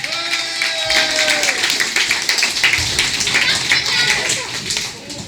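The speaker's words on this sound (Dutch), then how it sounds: "Mag een applaus voor jeugdprins Nigel de Leesje." An audience at a children's carnival session claps for the youth prince, a steady run of applause that builds after a second and carries on to the end, with voices talking over it.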